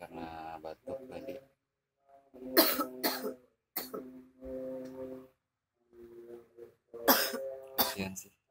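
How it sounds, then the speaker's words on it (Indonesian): A woman woken by a chronic-sounding cough coughs in several harsh bursts, clustered in pairs and runs with quiet pauses between, close and fairly clear with no talk over it. "Beliau terbangun karena batuk tadi."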